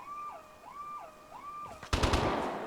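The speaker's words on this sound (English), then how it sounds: "Okay, gunshots, noted." A burst of gunfire rings out in the video game Vigor, loud and sudden after a wavering siren-like tone, with several rapid shots crowding together near the end.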